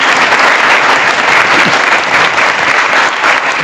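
A church congregation at a Sunday Mass on marriage claps loudly and steadily, a dense, continuous burst of many hands close by, with no talk over it.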